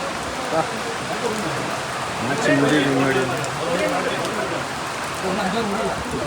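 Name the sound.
heavy rain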